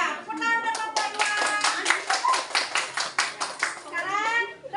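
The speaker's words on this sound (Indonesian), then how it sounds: "Tepuk tangan untuk kelompok 2" Schoolchildren in an elementary classroom clap together for a presenting group, a brisk run of handclaps mixed with children's voices chattering and calling out over it.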